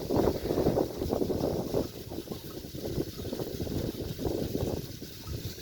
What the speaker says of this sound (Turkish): bayağı da bir soğuk hava böyle rüzgar işi bozuyor